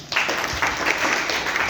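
An audience at a training meeting bursts into steady applause, a dense wash of clapping that holds at even volume for the whole stretch with no speech over it.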